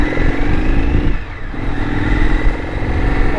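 Close, loud FTR x RSD Super Hooligan motorcycle engine rumbling and revving, dipping briefly as the throttle eases before the revs climb again.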